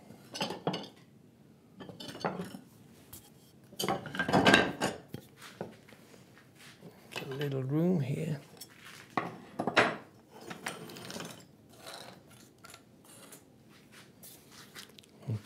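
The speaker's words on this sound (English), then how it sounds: "Okay, big chisel." A big chisel cutting into wood while making a router plane: irregular bursts of knocks, taps and scraping bites, some sharp and close, separated by quiet gaps.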